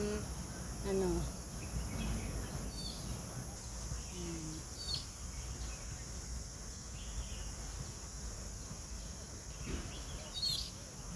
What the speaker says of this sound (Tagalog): maririnig mo dito yung mga ibon kasi maraming puno, maraming bulaklak.